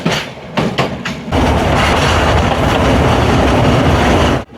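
The Shargan 8 narrow-gauge railway train in Serbia runs loud and close, its steady rumbling roar swelling after a few rhythmic pulses as it enters a tunnel.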